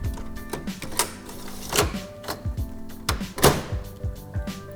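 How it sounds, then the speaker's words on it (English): A lever pushed down into a Canon imagePROGRAF Pro-4000 wide format printer during an ink cartridge change, giving a series of plastic clicks and thunks at an uneven pace, close by and moderately loud. "Now I'm going to take the lever and put it down into the printer."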